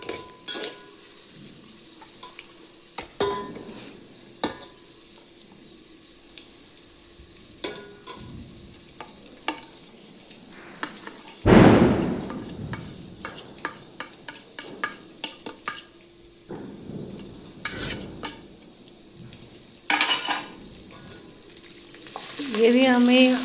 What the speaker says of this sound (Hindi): ये भी हमें भूनना है, तिल एंड करी लीव्स।